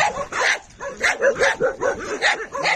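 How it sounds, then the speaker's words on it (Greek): Rescued dog in poor condition at a shelter, making a series of close, fairly loud yips and whimpering barks in an uneven rhythm, about a dozen short calls with brief gaps between them. "την Καρίνα ένα σκυλάκι που είχαμε πάρει που ήταν σε άθλια κατάσταση"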